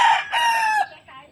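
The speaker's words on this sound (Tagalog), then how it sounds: "Kami manok lang." A rooster crows once at close range, loud and clear, giving a bright strained call that drops off at the end, heard at a house in Porac where chickens are kept.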